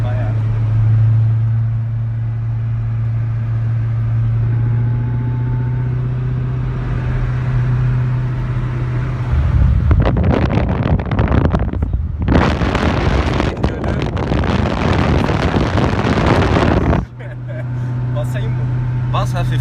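A Koenigsegg Agera R Speedstar sports car drives along with a low, steady engine drone under Turkish conversation, then swells into a loud, rushing roar for several seconds before settling back to the droning hum.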